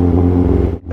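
A motorcycle's exhaust near the microphone, a lovely backfiring machine among superbikes in India: a loud, steady engine rumble that cuts off abruptly near the end with a short sharp pop.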